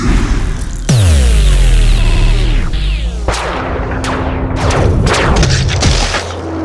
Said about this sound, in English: shots ring out as several biotic rounds fire